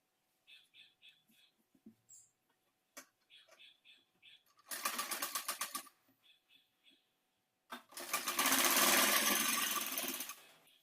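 A sewing machine stitching a saree blouse, running in short stop-start bursts, then two longer loud whirring runs of fast needle strokes, close and alone.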